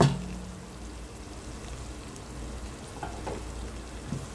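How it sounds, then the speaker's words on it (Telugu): Onions with turmeric fry in a pan with a soft, steady sizzle, quiet and unbroken, during an Andhra-style chicken fry. "ఇవి కొంచెం ఫ్రై అయిన తర్వాత మనం కొంచెం పసుపు అనేది యాడ్ చేసేసుకున్నాము. మనకి ఆనియన్స్ అనేది ఫ్రై అయిపోయినాయి."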